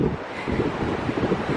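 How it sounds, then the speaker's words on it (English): Strong coastal wind batters the microphone at Mawgan Porth near Newquay as Storm Arwen approaches, gusting roughly over the low roar of surf. "it's obviously really windy"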